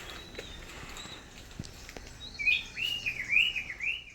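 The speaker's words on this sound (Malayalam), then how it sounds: "ആ കിളിയുടെ ഒച്ചയൊക്കെ നല്ല രസമുണ്ടല്ലേ." Birds chirp and warble outdoors near a home jackfruit tree, a quick run of bright, fairly close calls arriving midway after a stretch of quiet ambient background.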